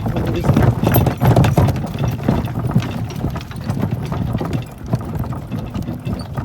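Draft horses walk home down from a hill, their hooves clip-clopping in a steady, close rhythm over a constant rumbling background, with occasional voices.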